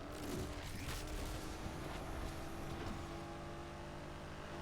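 Lamborghini Murcielago LP 670 in a racing video game, its engine a continuous loud roar holding near top speed, with faint tonal shifts, no talking.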